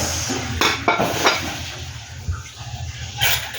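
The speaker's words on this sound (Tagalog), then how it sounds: "Kinuskus ko muna yung mga sa lababo bago ako naghuhugas ng mga pinggan." Greasy dishes being scrubbed and washed in a kitchen sink, with intermittent clinks and clatters of plates and utensils over running water and scrubbing noise.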